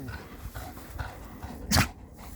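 A Malinois, a female in heat, whimpers and whines close by during work with a bite tug, with soft, uneven cries and one louder, sharper yelp toward the end.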